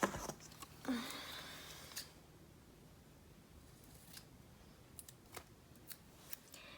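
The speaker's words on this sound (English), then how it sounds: "I think I'm going to use this blue box, but I want to cut it" Scissors cut through a blue paper box in a quiet room, making a few short snipping bursts near the start, then several faint, brief clicks and rustles spread through the rest.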